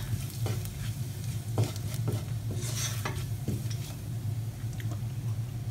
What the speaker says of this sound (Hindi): हम अच्छे से मिक्स कर लेंगे